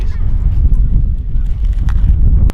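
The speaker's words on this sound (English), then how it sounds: "Oh, it suddenly got really windy." Wind buffeting an outdoor microphone: a heavy, low rumble of gusts thuds continuously and loudly, with faint background sounds poking through and no clear speech.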